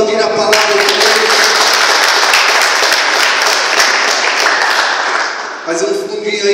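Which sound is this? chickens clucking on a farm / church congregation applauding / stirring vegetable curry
church congregation applauding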